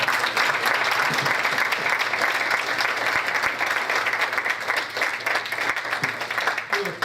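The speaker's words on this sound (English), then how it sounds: "Go ahead, clap." An audience at a banquet hall meeting applauds in a sustained, dense wash of clapping that carries on for several seconds, with some voices mixed in.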